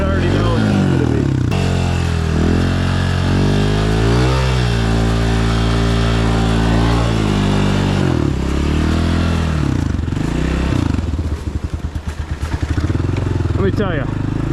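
A new 2026 Honda CRF125F dirt bike, not yet past its first oil change, runs close and loud. The engine idles with a throbbing harmonic hum and rises and falls through several revs, with a rapid rattling stretch near the end. Voices talk over it.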